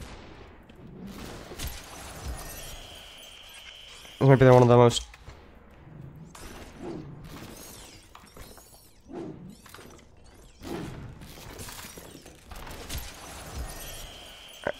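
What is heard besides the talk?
glass shattering in the video game SUPERHOT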